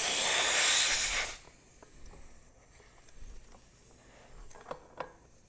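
Air hisses loudly out of an open ATV tire valve on a 9-inch rim for just over a second, then stops abruptly. Faint clicks and handling noises follow in the near-quiet.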